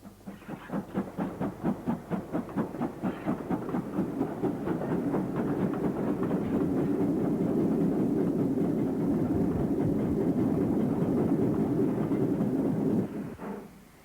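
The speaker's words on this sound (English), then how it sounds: "we see Castle-class locomotive number 5070, Sir Daniel Gooch, on this freight working" GWR Castle-class steam locomotive 5070 hauls a freight train near Snow Hill. Quick, rhythmic chuffs at the start merge into a steady, rolling rumble that carries on for several seconds, then drops off abruptly.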